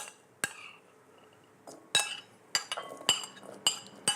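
Coco beans mixed in a bowl give a run of sharp, bright clinks, several separate knocks of a utensil against the bowl, close and fairly quiet with pauses between them.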